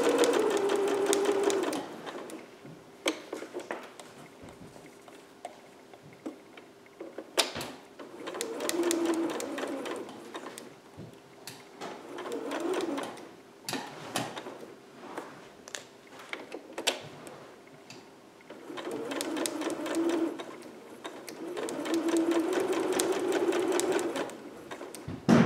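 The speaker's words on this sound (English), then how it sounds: "So stitch a little, back stitch, and then just follow your line." A sewing machine stitches a dress dart in several short close bursts with pauses between, including brief backstitching, while a person talks quietly over the machine.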